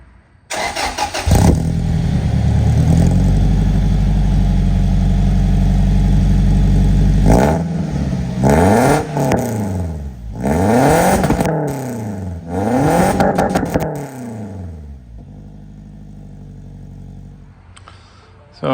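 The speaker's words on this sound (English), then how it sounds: "And the new muffler is installed, so see if we can see what it sounds like." A car engine with a newly installed race muffler idles loudly, then revs up and down several times in sharp rising and falling sweeps, close by, before dropping back to a quieter idle.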